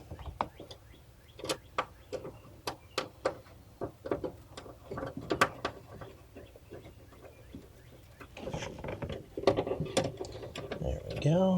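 Tightening screws while fitting a replacement antenna on a 1991 BMW 325i, with rapid close ratchet clicks in steady bursts, then denser handling noise and faint talk toward the end.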